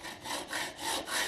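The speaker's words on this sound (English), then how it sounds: "I put it into this vise, and we have to cut this. So what I'm going to show is, now we've got our hacksaw" A hacksaw cuts brass tubing clamped in a vise, with four rhythmic back-and-forth rasping strokes, close and clear with no talking.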